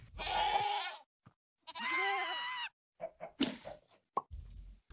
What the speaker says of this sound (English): Looks like we've got three screaming goats.